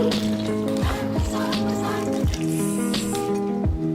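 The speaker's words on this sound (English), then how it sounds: "Chop this in half and squirt it into our juice jar, or lemonade jar." A lemon half is squeezed by hand into a lemonade jar, giving wet squishing squirts and drips over a steady background of music.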